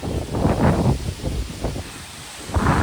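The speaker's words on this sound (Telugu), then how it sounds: "అలా ఊగిపోతున్నాయి చెట్లు, అంత గాలి" Strong wind sways trees around a house as a sudden summer storm with heavy rain begins, loud roaring gusts surging and easing in close, rough waves.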